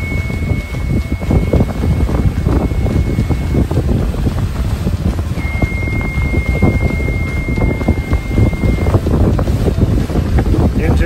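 Leopard catamaran sailing on a beam reach at about 7 knots on a passage from Carriacou, Grenada toward St Thomas, with steady rushing water and wind buffeting the microphone throughout, loud and continuous.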